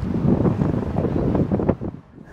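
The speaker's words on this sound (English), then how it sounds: "It's a bit windy." Heavy wind buffeting a microphone, a loud low rumbling roar that gusts unevenly and then drops off.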